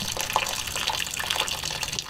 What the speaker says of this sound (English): And now our gray water will pour out.